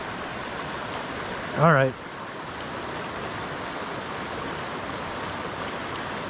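A steady rush of flowing water from a pristine Eastern Sierra creek fills the scene, constant and close, with a man's brief remark over it.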